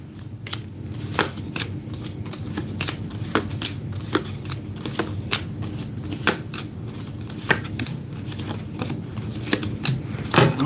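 Tarot cards are shuffled over and over at close range, a continuous soft riffling and flicking with repeated sharp snaps as the cards are bridged and drawn, with no voices.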